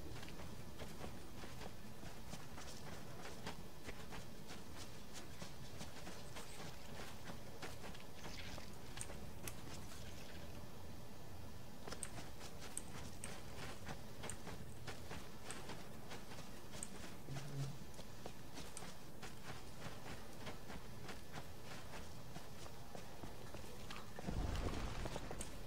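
A horse's hooves clip-clop in a steady, quick rhythm in the RIFT online role-playing game, continuous under game music, with a louder thump near the end.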